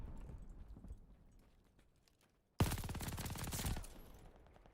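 Machine gun fire in Call of Duty Vanguard multiplayer bursts in suddenly after quiet game ambience, a loud rapid stream of shots lasting over a second before tapering into background noise.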